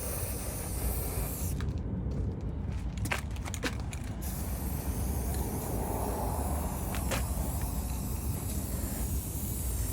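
Wood finish sprayed onto the ends of untreated wood during an IBC tote shower build, a steady close hiss running throughout with a few brief sharp clicks partway.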